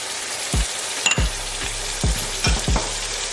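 Tomatoes and turmeric powder sizzle in a hot pan for a kofta and spinach curry, giving a steady close frying hiss broken by several sharp knocks and scrapes of a spoon stirring.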